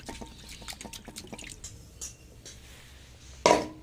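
Raw chicken pieces being rinsed in water at home, soft irregular splashes and drips repeating close by, ending in a brief louder slosh as the water is moved or poured.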